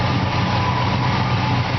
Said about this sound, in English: you can hear that the car runs out nice and smooth